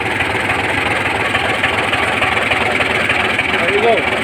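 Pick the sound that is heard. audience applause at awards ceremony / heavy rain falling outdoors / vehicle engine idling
vehicle engine idling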